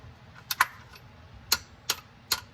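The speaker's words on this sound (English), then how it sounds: "I've got my torque wrench ready" Torque wrench clicking while tightening a new oil drain bolt with crush washer under a Mercedes C32 AMG W203; a few sharp, quiet clicks spaced irregularly, alone with no talk.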